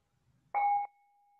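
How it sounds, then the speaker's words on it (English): A singing bell struck once at the close of a guided meditation, a clear bright ding that rings briefly and then leaves a long, faint sustained tone hanging in an otherwise quiet room. "I'll ring the singing bell"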